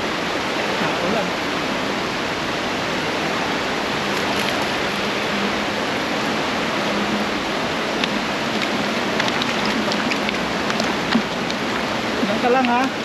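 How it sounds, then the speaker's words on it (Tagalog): Heavy rain with big drops pours down in a dense, continuous hiss, loud and steady throughout, with a few faint sharper patters near the end. "Malaki ng patak. Ulan."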